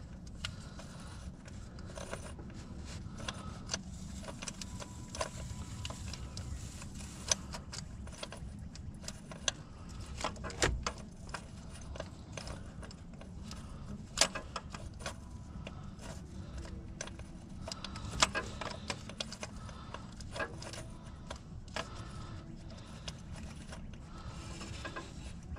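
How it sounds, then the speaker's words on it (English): Socket extensions being turned by hand into an aluminum engine block, giving a long run of light metallic clicks and ratcheting ticks, close and faint, irregular throughout with no talking. "I'm just turning the socket extensions."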